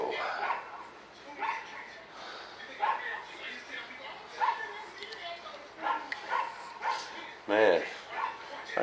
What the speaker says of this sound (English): Sure got a neighbor's got a hunting dog over there. That dog just barks all the time.